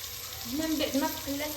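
Meat pieces frying in a pan, a dense close sizzle with a faint tonal scrape of stirring over it, brief and steady without speech.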